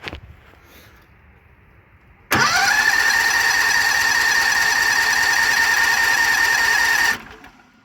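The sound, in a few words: Honda pressure washer engine first start attempt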